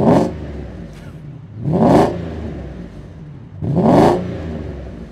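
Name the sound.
Mercedes CL600 V12 engine revving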